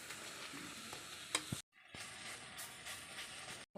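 A spice masala sautéed in a pan, a soft steady sizzle with a few stirring scrapes, close but faint, briefly cutting out partway through, with no talking.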